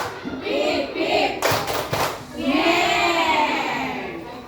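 Audience of adults in an Indonesian training session doing a rhythmic clapping game, a few brisk rounds of hand claps amid voices and crowd chatter.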